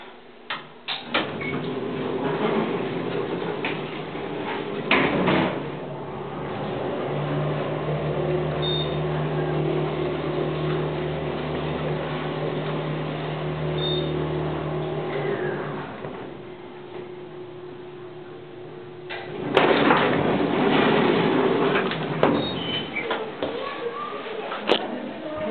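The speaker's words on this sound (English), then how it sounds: "And even the doors have started to make noise." Aging 1970s Montgomery G&P elevator doors grind and rumble with a steady low mechanical drone, then a louder clattering burst near the end as the doors move again.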